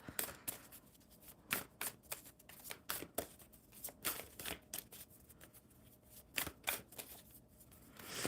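Oracle cards being handled and shuffled, a run of crisp riffling slaps and flicks in quick irregular bursts, close and fairly quiet, with no voice over them.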